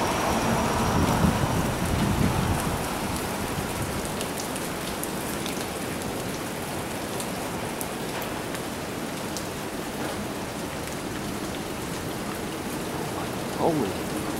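A thunderstorm with heavy rain drumming steadily on surfaces all around, with a low rumble of thunder early on and occasional louder drops, no one speaking.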